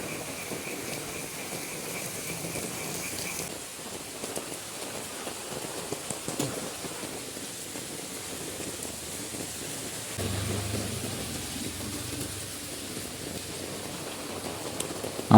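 Steady rain patters on surfaces in a continuous soft hiss, with faint low rumbles suggesting distant thunder and no voices.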